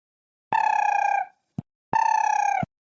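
Two bursts of an electronic telephone ring, each about a second long, separated by a short click, loud and close with no talking.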